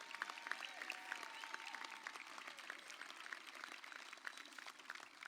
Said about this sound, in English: Let's have a round of applause for these students.